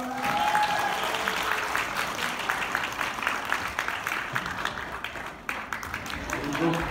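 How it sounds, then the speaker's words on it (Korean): Wedding guests applauding in a hall, a sustained wash of clapping from a crowd that rises and tapers slightly, with a voice speaking over it. "그럼 박수 한번 주세요."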